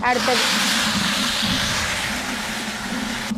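Mustard seeds, chana dal, urad dal and curry leaves hit hot oil for a village-style goat intestine gravy, setting off a loud, steady sizzling hiss that fades slightly as it settles.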